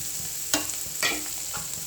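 Broad beans fry in oil with chili powder in a pan, a steady sizzle broken by two or three sharp scraping stirs; close and alone, without talk.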